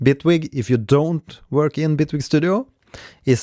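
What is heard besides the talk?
None of the usual background noises is heard.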